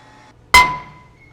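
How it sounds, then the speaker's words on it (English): A single sharp metallic hammer strike on a brake rotor rings out close and loud, leaving a bright ringing tone that decays over about half a second, alone without talk. "The hammering on the rotor can be very damaging to the wheel bearing and also the wheel speed sensor."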